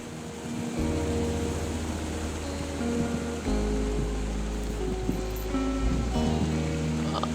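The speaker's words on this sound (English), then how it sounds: "It's a really nice waterfall down here." Steady rushing water from a waterfall in the video game Firewatch, a constant broadband wash with a low drone of game ambience beneath, no voices.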